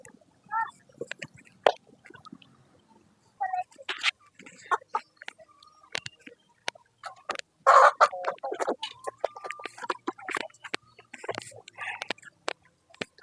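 Backyard chickens cluck and call in short scattered bursts, some close and loud, others fainter, with rustling and pecking noises between them outdoors.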